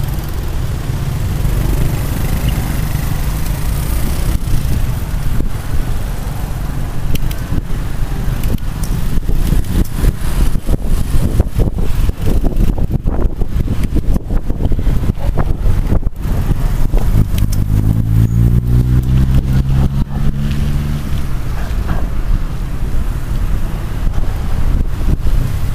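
A steady loud roar of wind buffeting the microphone on an electric bike ridden fast, continuous and rushing throughout, with a brief low hum midway.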